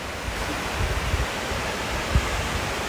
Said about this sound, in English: Got a waterfall right off the side of the road here.